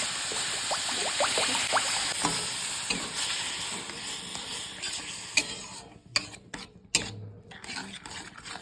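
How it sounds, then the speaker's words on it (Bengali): Water poured into a pan of lightly roasted semolina sets off a steady sizzle and bubbling with stirring scrapes, easing toward the end into a few sharp clinks and pauses. "সুজিটা আমার হালকাভাবে ভাজা হয়ে গেছে এখন আমি জল দিয়ে দেব"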